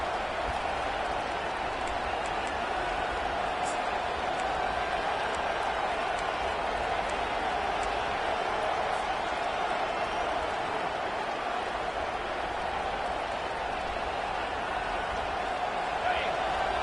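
Stadium crowd at a football game: a steady, dense roar of many voices holds throughout, with a commentator talking over it.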